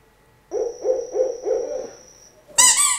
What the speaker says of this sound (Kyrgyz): Азаматсыздар, үкү.